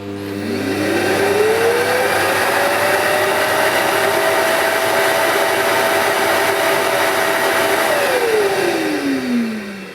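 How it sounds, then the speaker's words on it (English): A Hoover Dustmanager bagless/bagged cylinder vacuum cleaner starts up and its loud, close motor whine rises steadily in pitch to full suction, holds there, then winds back down at the end. "when I turn it on, it will start off slow and then eventually it'll go up to the full suction"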